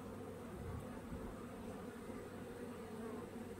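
Honey bees at a spring apiary drone in a steady, dense buzz, many insects overlapping continuously at close to mid range with no voices.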